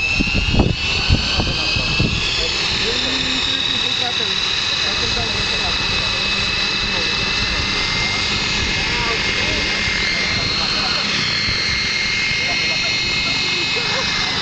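Electric Real Heli MX9 RC helicopter flying, a steady high whine from the rotor and motor that holds loud through the clip, with people talking underneath.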